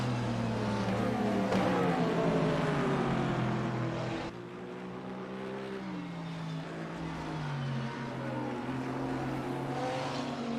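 BMW GT3 race car engine at Laguna Seca, a loud high-revving whine climbing through gears, a sharp shift cut midway, then rising again as it powers along the track.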